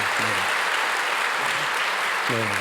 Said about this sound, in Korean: 우리 박수를 한번 격려하겠습니다.